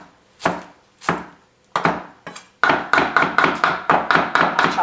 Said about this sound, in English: Chop that up.